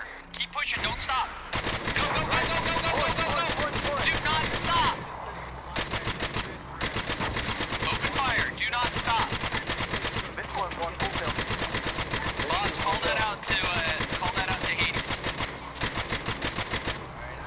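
Sustained gunfire in the ArmA 3 video game, loud dense bursts of automatic fire with brief gaps between volleys, running nearly the whole time with voices shouting over it.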